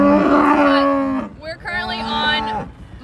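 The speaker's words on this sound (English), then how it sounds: "what you see behind me right here is my cow herd" Cattle in a farm pasture herd mooing loudly and close by, one long drawn-out low call followed by a second bellowing moo, with no talk over them.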